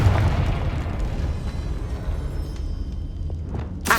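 A Confringo spell blast in Hogwarts Legacy rumbles as a loud, low booming explosion that lingers and fades, with a sharp pop at the very end.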